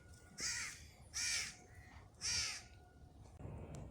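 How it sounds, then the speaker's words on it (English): Three loud, harsh caws from a crow close by at Port Klang, Malaysia, evenly spaced about a second apart, over quiet outdoor background noise. "Those crows aren't going to shut the hell up."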